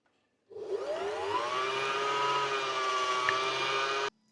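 A Janome mechanical sewing machine winds a bobbin under foot-control power, a steady whirring motor hum that starts abruptly, runs evenly for several seconds, then cuts off.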